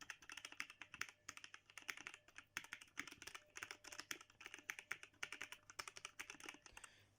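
Rapid, steady typing on a compact mechanical gaming keyboard with red switches, a dense run of close, crisp key clicks with brief pauses, no voices.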